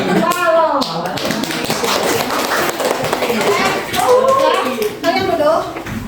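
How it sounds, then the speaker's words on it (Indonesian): Classroom applause for a student group, loud and close: uneven clapping and tapping hands mixed with children's chatter and shouting voices throughout. "tepuk tangan buat kelompok"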